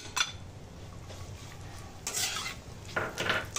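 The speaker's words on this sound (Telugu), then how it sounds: "1 కప్పు అంజీర్ వేసుకొని వేయించుకోవాలి." Chopped figs are stirred in ghee in a pan: quiet clinks and scrapes of a spoon against metal come in short bursts over a soft, low frying hiss, close by and with no voices.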